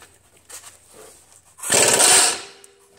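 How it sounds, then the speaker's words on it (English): 17 mm lower control arm bolts come off a 2004–2007 Toyota Highlander front end with one loud, harsh power-tool burst lasting about half a second. Faint clanks come before it in an otherwise quiet garage. "we're just going to remove these three bolts down here that go to the lower control arm"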